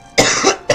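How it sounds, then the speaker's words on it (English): A person coughing, two short harsh coughs close to the microphone, the first longer and louder. "I got a cough."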